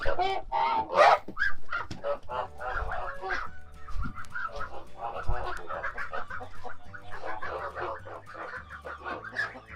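Geese honk and cackle in a busy, overlapping chorus, close by and fairly loud, with faint low thumps underneath.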